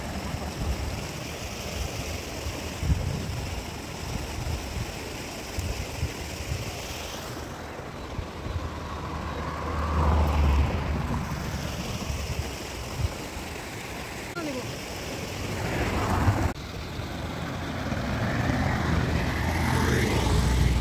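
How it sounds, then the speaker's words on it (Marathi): Stream of water flowing at Tamhini Ghat, a steady broadband rush that swells and fades over the whole stretch, mixed with passing road traffic and wind; no talking. "एवढा भारी पाण्याचा आवाज येतोय बघा"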